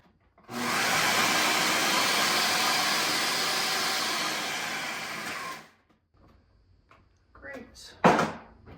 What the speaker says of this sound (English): a Ziploc bag and crush it up to make some crumbs